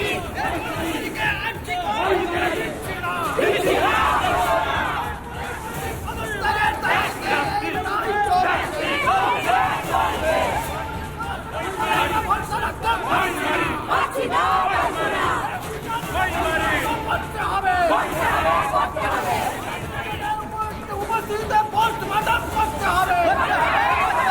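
A protest crowd outside a hospital chants and shouts slogans demanding justice, a dense, continuous roar of many voices that stays loud and close throughout, with no single voice standing out.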